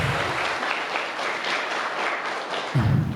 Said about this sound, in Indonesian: tepuk tangan untuk kakak kalian.